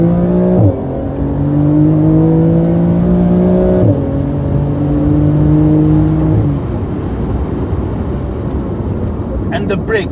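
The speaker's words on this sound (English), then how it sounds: "And let me tell you this, I'm going to accelerate now." A Porsche 911 Carrera S with 450 brake horsepower accelerates hard, its engine note climbing steadily through two upshifts and staying loud and close throughout, with the drive continuing after the last shift.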